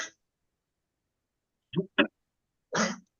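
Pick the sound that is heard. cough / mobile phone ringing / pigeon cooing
cough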